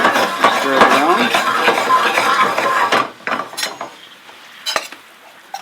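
Bananas flambéed with Bacardi are stirred in a pan, a loud close sizzle with scraping and clinking utensil sounds that thins out into sparser taps toward the end; a voice talks over it.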